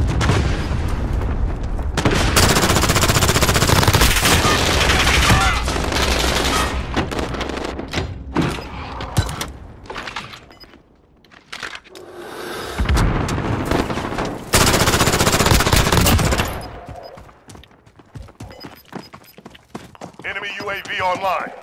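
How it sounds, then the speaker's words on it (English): Cluster strike explosions in Call of Duty: Modern Warfare hit as loud, dense bursts of booms and rapid blasts in two main waves, with quieter gaps between and game voice chatter. "Cluster strike away."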